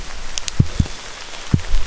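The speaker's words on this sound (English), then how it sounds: "I could see the rain coming for ages on the horizon" Rain falling at a bushcraft camp: a steady soft hiss of rainfall, broken by a few distinct, fairly loud drops hitting a nearby surface at irregular moments.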